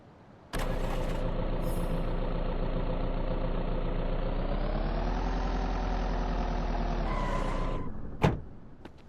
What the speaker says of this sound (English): So, the tractors are drivable.